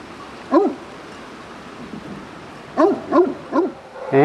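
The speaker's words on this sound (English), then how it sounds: "Down below we have the shepherd dog taking care of the flock." A shepherd dog tending a flock of sheep barks below a bridge in a Spanish countryside village, one bark, then a run of three quick barks and a final yelp, moderately distant over quiet ambience.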